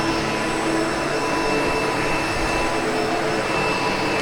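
A SEBO Automatic X7 Boost ePower upright vacuum cleaner runs on flooring with its brush roll engaged, a loud, steady motor whine and airflow roar holding constant, close up and without talk.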